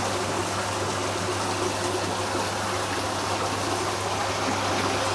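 Water rushes steadily through a hydraulic flume past skewed bridge arches, a constant close-up gushing hiss with a low mechanical hum underneath, unbroken and even throughout.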